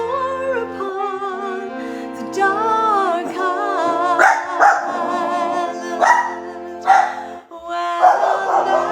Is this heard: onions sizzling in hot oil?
no